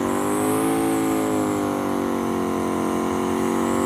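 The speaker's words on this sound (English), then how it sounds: "We got burnouts going down." A Pontiac doing a burnout at a historic auto attraction hangout, its engine roaring steadily at high revs with the continuous scream of tires melting against the pavement, loud and close throughout with no talking.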